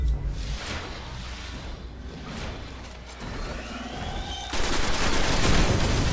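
Spider tank gunfire in the Destiny video game, with repeated shots through the first seconds, then a heavy, sustained roar of fire toward the end.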